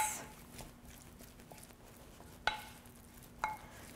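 Seasoning mix of salt and pepper being stirred in a bowl, giving soft scraping and light clinks of a utensil, with two sharper taps late on, close and quiet with no talk.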